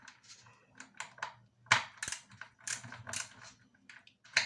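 The last nut being unscrewed while removing a boiler heating element, a sequence of close, light metallic ratcheting clicks and scraping turns in quick irregular bursts.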